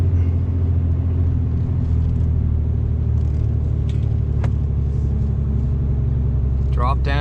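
A Ram 3500 Cummins diesel pickup hauling a 30,000 lb load climbs a steep snowy hill in low gear, its deep steady engine rumble droning loud and continuous, with some speech over it.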